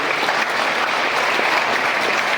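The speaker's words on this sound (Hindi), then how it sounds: "एक बार जोरदार तालियां आपके लिए।" Loud, steady audience applause fills the whole stretch at a BJP political stage event in Ghaziabad, dense clapping continuing without a break.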